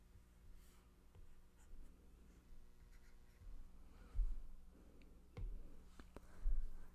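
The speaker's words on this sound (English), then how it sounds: "Draw a line." A pen drawing a line on paper during a math lesson on reciprocal functions, producing faint, close scratchy strokes with a few soft clicks and taps, quiet and without talk.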